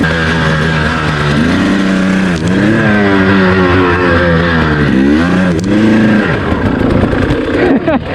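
An enduro motorcycle works through a tough, low-traction off-road section. Its engine revs up and down in loud, close bursts throughout, straining and wavering, with a rider speaking briefly over it.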